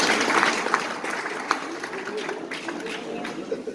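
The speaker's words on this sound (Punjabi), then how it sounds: "ਤਾਲੀਆਂ ਮਾਰੋ।" An audience at a humorous talk claps in a scattered, uneven burst of applause, mixed with crowd murmur and a speaking voice.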